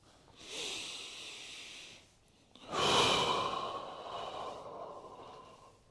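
Deep, slow breaths during a standing movement exercise with head swings, shoulder and hip opening: a long airy inhale, a short pause, then a longer, louder exhale, close and alone.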